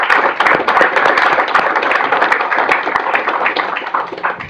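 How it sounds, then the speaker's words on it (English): Audience applause for a panel at an energy finance event, close and loud clapping with sharp individual claps, steady for several seconds before stopping abruptly. "let's give a big round of applause to the panel for coming"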